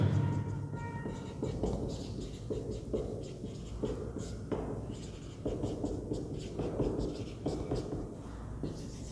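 A pen scratches out maths on paper by hand in quick, uneven strokes, fairly close and soft, with a low room rumble and no talk.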